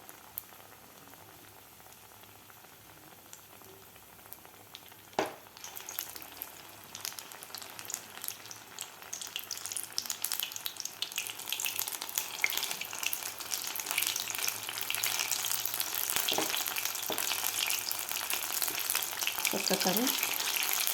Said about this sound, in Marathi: दुसरीसुद्धा आपण बॅच यामध्ये तेलात सोडणार आहोत.